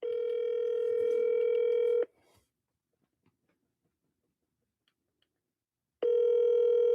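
A telephone call rings out: a loud steady ringback tone lasts about two seconds, then silence, then the tone starts again, with no voices.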